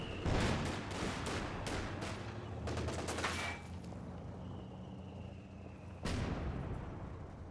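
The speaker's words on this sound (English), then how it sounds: "A lot of rockets coming in, I guess. So concussion. But the grenade from the Rangers" Rapid bursts of gunfire and booming explosions from incoming rockets and grenades in a video game battle, loud dense volleys with a brief lull before another heavy blast near the end.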